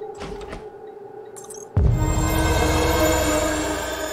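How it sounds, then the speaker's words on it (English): Heavy doors opening in the sci-fi video game Prey, starting with a few faint tones before a sudden loud mechanical thud that becomes a sustained, slowly fading rumbling slide with a ringing metallic hum. "And open the doors."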